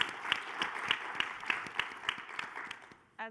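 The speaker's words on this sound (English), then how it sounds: "Big round of applause." Audience at a PASS Summit 2019 conference session breaks into applause, a steady patter of many hands with regular louder claps, moderately distant, fading out before a brief voice cuts in at the end.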